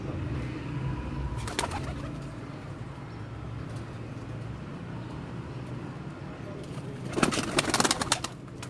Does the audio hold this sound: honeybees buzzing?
no